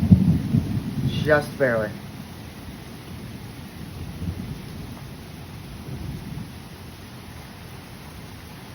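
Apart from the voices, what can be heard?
thunderstorm with rain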